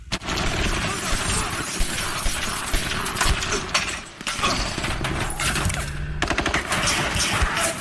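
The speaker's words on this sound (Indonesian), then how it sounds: "di penggerebekan tersebut semua anak buah Frank ditembak mati nih oleh polisi" Police open fire during a raid scene in the crime film The Departed, rapid rattling gunshots mixed with breaking glass and mechanical clatter, loud and continuous across the scene with no talk over it.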